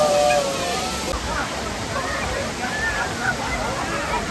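Forceful water crashing steadily down Kanthaloor waterfall, a loud continuous roar and splash heard up close without pause.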